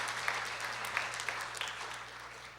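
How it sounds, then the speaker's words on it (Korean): A church congregation at a middle-school department service gives a brief round of applause for the teachers, a dense patter of many hands clapping at moderate distance. "우리 선생님들 위해서 박수 한 번만 쳐주세요."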